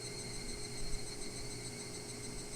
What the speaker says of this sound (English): The sound of the cicadas cry.